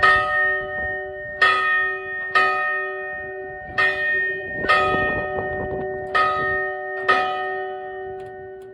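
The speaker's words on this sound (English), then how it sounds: "There you go, 8 bells for the 80th anniversary." Eight clear strokes of the ship's bell aboard Battleship Iowa ring out at a slow, even pace, each strike loud and ringing before fading under the next, marking the ship's 80th anniversary.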